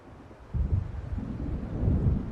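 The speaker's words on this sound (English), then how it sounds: "It seems there's a storm coming." Thunder from an approaching storm in the video game Alan Wake Remastered, a deep rolling rumble that swells after a quiet start and keeps building, fairly faint.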